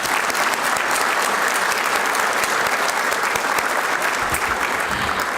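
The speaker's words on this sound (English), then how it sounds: "please give a round of applause to these folks as the Sheraton and also to our TLC members" Banquet audience at an aerospace defense industry luncheon applauding, a dense, steady roar of clapping hands sustained throughout.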